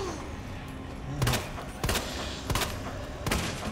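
Several handgun shots ring out in Resident Evil 2, four sharp reports spaced about two-thirds of a second apart over steady game background noise.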